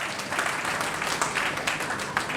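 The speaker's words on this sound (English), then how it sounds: "So can we just give Kev another round of applause" An audience at a cycling club's awards night gives a warm round of applause, the clapping thick and continuous at a moderate, even level for a couple of seconds.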